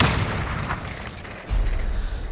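A grenade blows up in a video game, a heavy, close boom that rumbles and decays, then another low thump follows a second later.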